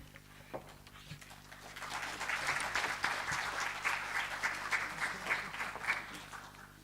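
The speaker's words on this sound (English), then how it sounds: "A round of applause for Dave." Conference attendees at a botany meeting applaud a speaker, clapping that starts sparse and quiet, swells into a fuller round and then carries on in uneven waves, heard at a distance in a hall.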